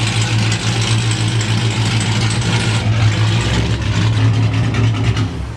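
A 500 hp SRT car's engine rumbles loud and close with a deep, steady idle that swells into revving as the car pulls away.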